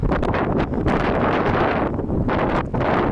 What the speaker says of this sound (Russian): Вот сейчас ветер, чувствую, что в камере будет по-любому вот этот ветер, да?